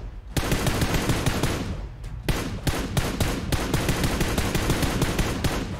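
Rapid automatic gunfire in a shooter video game, sustained and loud for most of the stretch with short bursts and brief gaps, close and dense, no talking over it.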